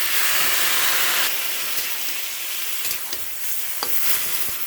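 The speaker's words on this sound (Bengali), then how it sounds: "ভালো করে কষিয়ে নিচ্ছি" Food being sautéed and stirred in a pan for a home-cooked dish, a steady loud sizzle with scraping stirs, dropping slightly after a moment and then continuing with a few sharper clinks of the spoon.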